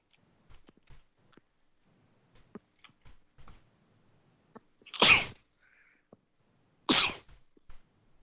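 Two sharp sneezes about two seconds apart, fairly close and loud, breaking into an otherwise quiet room with faint clicks and small handling noises.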